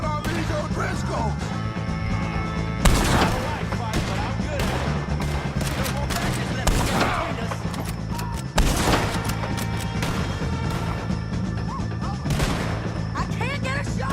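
Gunfire in Red Dead Redemption 2 during a shootout with O'Driscoll gang members: repeated loud sharp shots and bursts punctuate a dense, busy battle mix, with several heavy blasts spread across the scene and shouting voices underneath.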